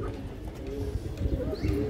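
A female pigeon at a pigeon seller's, soft low coos close by over a murmur of background noise, with no speech.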